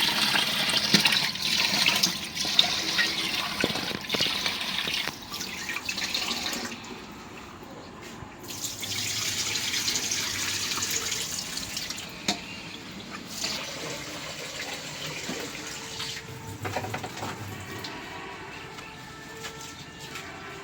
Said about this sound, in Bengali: এখন আমি চালটা ধুয়ে নেই, তারপরে রান্না শুরু করি।